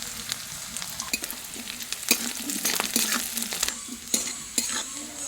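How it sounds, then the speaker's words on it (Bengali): Garlic and black cumin seeds fry in a pan, a steady crackling sizzle close by, punctuated by repeated scraping and clinking as the spices are stirred, with no talking. "এই যে রসুন ভাজা হচ্ছে, কুমড়ো পাতা বাটবো।"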